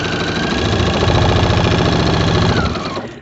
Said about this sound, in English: I'm going to use my walking foot and just start stitching diagonally